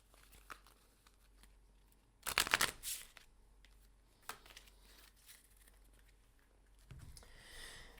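Playing cards from a tabletop board game are shuffled back into a deck: a quiet room with scattered light card handling, then a loud, close riffle burst lasting under a second, followed by a few soft taps and slides.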